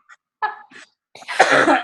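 A few short throat sounds lead into a harsh, breathy cough burst, close and moderately loud.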